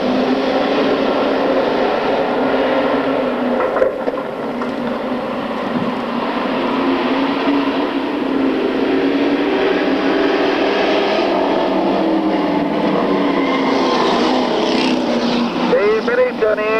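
A pack of race cars, a Buick among them, roars off the line at a 1995 oval race, a dense continuous engine drone that swells and holds for the whole stretch, with a commentator's voice running over it.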